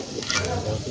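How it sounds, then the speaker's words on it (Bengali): Garlic paste sizzles and fries in a pan as it is stirred, a close, steady crackle with soft scraping. "দিয়ে আবার এগুলা লাড়াছাড়া করা হচ্ছে"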